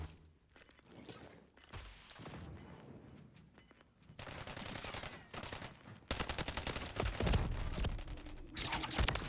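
Gunfire crackles in the Modern Warfare 3 video game as dense bursts of rapid shots that start moderate and grow louder and more continuous toward the end.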